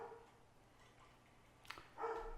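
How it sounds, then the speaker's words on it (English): A dog gives a couple of brief, faint barks near the end of an otherwise quiet stretch, with no one talking. "This dog."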